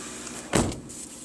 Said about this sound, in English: I'm closing the door to reduce the noise.